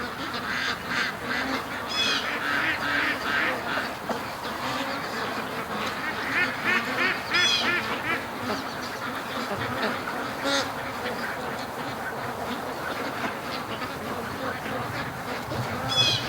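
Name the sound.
Muscovy ducks quacking by a lake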